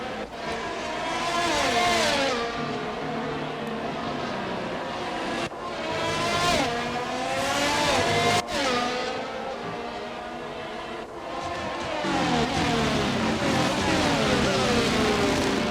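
Formula 1 cars racing at Circuit Gilles-Villeneuve in the video game F1 22, heard as a loud, continuous engine whine rising and falling through gear shifts, with brief dips and clicks between upshifts.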